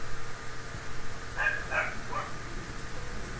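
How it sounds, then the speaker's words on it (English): Dogs bark in the video game Minecraft: a few short, faint yips cluster in the middle over a low steady hum. "Dogs are barking."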